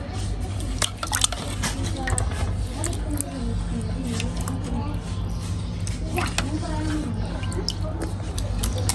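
Raw chicken pieces for chicken chowmein are rinsed in water, with steady splashing, dripping and squishing sounds running under ongoing speech.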